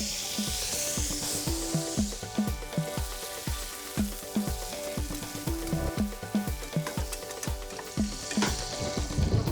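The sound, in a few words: monkfish frying in butter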